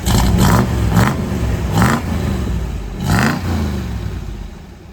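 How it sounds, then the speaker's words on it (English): A Dodge Challenger T/A 340 V8 rumbles at close range, then revs in several short, loud bursts with a throaty, clattering idle between them. "Yeah, give us a little rev."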